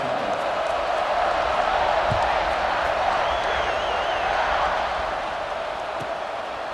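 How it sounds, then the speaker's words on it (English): A stadium crowd in EA Sports College Football 26 before a kickoff, heard as a loud, steady roar of cheering that fills the whole stretch without pause. "They're set to kick it off, and this crowd now ready to get behind them."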